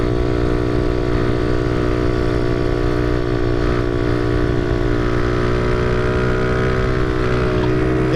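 A motorcycle fitted with a new Nibbi carburetor, 125 main jet, holds a loud, steady high-revving engine drone throughout a wheelie, close and unbroken with a faint rise in pitch.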